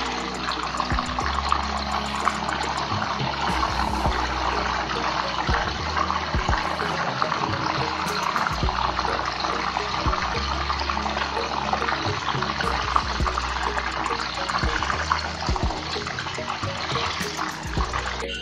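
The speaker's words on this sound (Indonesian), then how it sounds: "Nah setelah tadi pisangnya ditirisin, terus kita goreng nih." Bananas sizzle in hot oil with a garlic-and-salt seasoning liquid, giving a continuous dense bubbling hiss throughout with no talking.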